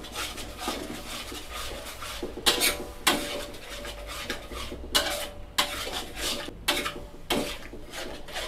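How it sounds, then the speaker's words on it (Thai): Pink rice noodles are stir-fried with yentafo sauce in a wok over low heat, with repeated scraping and clanking strokes of a metal spatula over a soft sizzle, close by and without speech. "ผัดเลยครับไฟอ่อน เติมน้ำซอสเย็นตาโฟลงไปได้เลยนะครับ"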